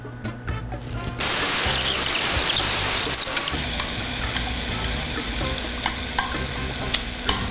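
Cooking oil crackles on high heat in a frying pan, a little oil used for the egg garnish for rice cake soup. The sizzle starts quietly, then jumps to a loud, dense, steady hiss with scattered pops.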